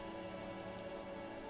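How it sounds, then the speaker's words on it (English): Steady rain pours down on a city in the game Disco Elysium, a dense, even wash of drops hitting surfaces without pause, close and continuous with no voices. "Rain falls down on the world."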